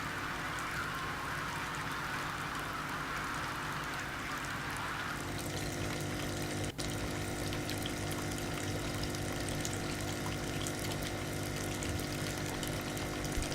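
Water sloshes and trickles steadily inside a tank in the video game Kentucky Route Zero, a continuous wet churning that thins out partway through, with one brief sharp knock near the middle.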